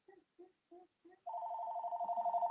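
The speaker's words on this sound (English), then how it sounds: "Hey, Peggy, you're not supposed to call my cell phone." A cell phone rings alone: a few short soft chirps, then a steady, continuous warbling ring that grows louder.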